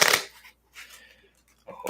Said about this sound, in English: the riffle shuffle feels really bad with these